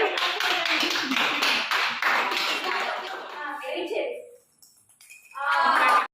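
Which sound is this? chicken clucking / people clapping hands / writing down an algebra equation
people clapping hands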